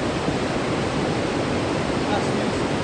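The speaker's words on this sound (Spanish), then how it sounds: "Vamos bajando, la cascada se llama Slavica." Rushing water from Savica waterfall near Bohinj, Slovenia, forms a steady, dense roar that stays loud and unbroken throughout.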